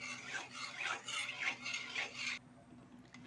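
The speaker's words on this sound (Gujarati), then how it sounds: "તમે વિસ્કરની મદદ વડે મિક્સ કરી લો" A whisk beats khandvi batter seasoned with salt and turmeric in a bowl, making five or six rhythmic rasping strokes up close before stopping abruptly into near silence.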